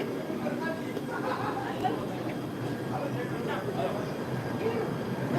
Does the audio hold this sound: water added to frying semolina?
no